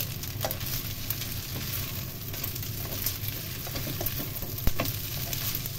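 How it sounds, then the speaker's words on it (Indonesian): Vermicelli and cooked seafood stir-fry in a pan, with a steady, even sizzle and soft scraping of the spatula continuing throughout, plus one sharp knock near the end. "Cuma dicampur-campur aja biar bumbunya ini merata"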